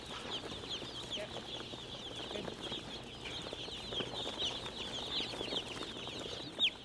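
Many chicks peep continuously in a dense, high-pitched chorus as they are placed into a brooding chamber, with soft rustling and clucking beneath, steady throughout.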